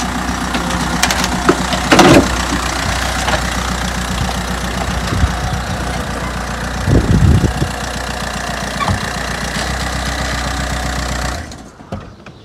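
An Audi A4 convertible engine with an intermittent running fault idles with a steady low rumble and a rattling vibration, with a couple of louder surges before it cuts off at the end.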